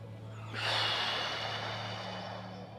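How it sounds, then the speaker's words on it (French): A single long, soft breath drawn in through the nose during a beginner's tai chi session, starting abruptly and trailing off over about two seconds, close and quiet. "Inspirez par le nez"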